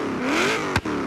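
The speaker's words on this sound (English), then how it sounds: "Then a street exhaust could sound like this." A Forza Horizon 5 video game car fitted with a street exhaust revs up in one loud, rising pull, then a sharp pop or crackle as the throttle snaps shut.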